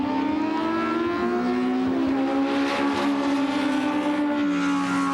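Pro Import drag race cars launch in the final, their engines screaming at high revs with rising, shifting tones that stay loud and continuous for several seconds.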